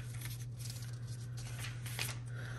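Pages of an illustrated Bible being flipped, a quick series of soft papery riffles and flutters close by over a low steady hum.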